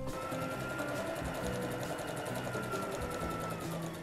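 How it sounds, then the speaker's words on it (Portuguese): A sewing machine stitches fabric for a patchwork heart ornament, a steady, close, continuous whirring hum with no pauses. "Agora eu vou lá para a máquina, vou fazer a costura e já volto."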